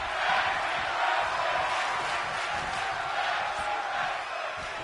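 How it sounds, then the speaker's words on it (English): A packed arena crowd roars steadily throughout a WWE 2K22 wrestling match, a dense, continuous wash of cheering and shouting with no clear breaks. "You can hear the crowd."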